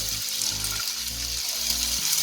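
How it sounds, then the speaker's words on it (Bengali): Chopped tomato and green peas fry in a kadai of cooked-down spiced masala for a Bengali katla fish curry with cauliflower, giving a steady close sizzling hiss that runs unbroken throughout. "এর মধ্যে অল্প একটু টমেটো কুচিয়ে দিয়ে দিলাম, আর একটু কড়াইশুঁটি দিয়ে দিলাম"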